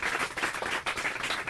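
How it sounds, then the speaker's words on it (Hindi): An audience at an environmental event clapping together, a brief burst of dense, fairly faint applause heard from within the hall. "एक बार जोरदार से तालियां हो जाए इनके लिए"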